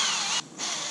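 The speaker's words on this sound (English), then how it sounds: "So just gonna drill a little pilot hole right there" A handheld drill whirs as it bores a pilot hole into a soft cast aluminum motorized-bike intake manifold, a short loud burst that dips briefly in the middle before resuming.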